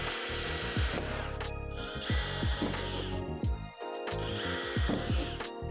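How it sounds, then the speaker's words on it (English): A power drill with the provided bit bores through the first layer of metal at the divots on a Lifetime 8' x 20' outdoor storage shed door, whining in three sustained bursts with grinding, rattling texture, close and loud. "drill them out with a provided drill bit, only going through the first layer of metal."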